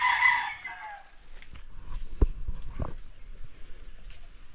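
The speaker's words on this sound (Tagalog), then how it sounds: "Dito yung mga chicken natin na native." Native chickens on a small backyard farm, with a rooster's crow at the start followed by scattered clucks and a few sharp knocks against a quiet outdoor background.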